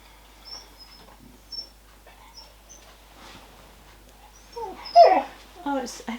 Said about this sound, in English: Got really distracted by dog noises then